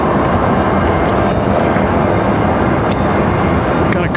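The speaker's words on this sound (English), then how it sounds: "So there's that SR-22." A Cirrus SR-22 light aircraft passes at Raleigh-Durham International Airport, a loud, broad engine roar that holds steady through the moment, with speech faintly present.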